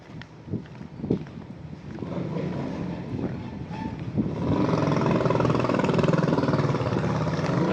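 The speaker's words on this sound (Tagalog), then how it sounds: "Medyo humahangin pa nga ngayon, no?" Gusty wind blowing across a residential street the day after Super Typhoon Karding, a steady rushing roar with buffeting on the microphone that grows stronger and fuller in the second half, with no talking.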